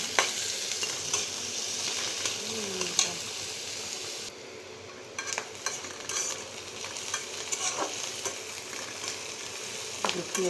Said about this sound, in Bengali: তেলটা ঢেলে দিলাম, গরমে আসছে। কাটা পেঁয়াজগুলো দিয়ে দিলাম